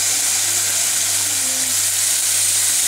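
Chicken sizzles in hot oil in a frying pan, a steady, close, even crackle with no speech over it.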